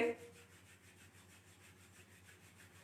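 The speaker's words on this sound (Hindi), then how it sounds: "दोनों हाथों को आपस में रब करिए" Two palms rub briskly together during a yoga session, producing a soft, steady rhythmic swishing close to the microphone.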